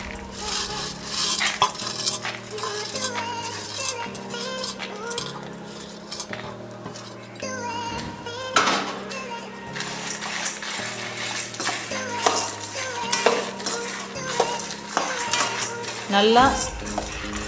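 A metal spoon repeatedly scraping and clinking against a pan while chana dal, urad dal and dried chillies roast to golden, with irregular stirring strokes, faint sizzle and someone talking over it.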